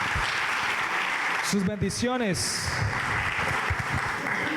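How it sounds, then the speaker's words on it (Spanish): Applause from a church congregation at a worship service, a steady wash of clapping that runs through the whole stretch while a preacher's voice speaks over it briefly. "¿Cuánto le dan un fuerte aplauso a nuestro Dios por eso?"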